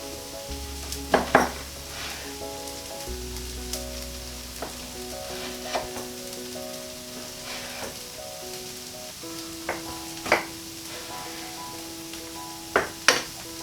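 Vegan pancakes frying in a pan give a soft, continuous sizzle, with scattered clicks and scrapes of a utensil against the pan, close and fairly quiet with no talk.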